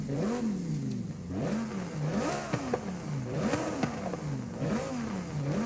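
A Lamborghini Huracan STO with racing exhaust in Forza Horizon 5 revs repeatedly, engine pitch swooping up and down in rhythmic blips with exhaust crackle, close and loud with no talking.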